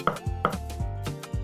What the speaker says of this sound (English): dicing up of my potatoes